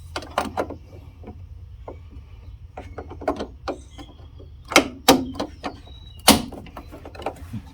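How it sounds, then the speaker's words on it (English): Small plastic clicks and taps come as a Gosund smart light switch cover plate is fitted and snapped on, up close, with a few sharper snaps near the end and no talk. "cover for it just snaps on, those screws go in it."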